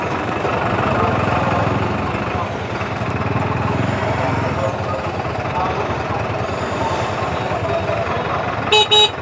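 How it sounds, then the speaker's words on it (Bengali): A truck rumbles along a road while held up by a CNG auto-rickshaw, its engine droning steadily alongside traffic noise, with a short burst of honking near the end. "ওই যে সামনে আরেকটা সিএনজি আইসা ট্রাকের রাস্তা রোধ করে রাখছে, আর ট্রাক পাস করতে পারছে না।"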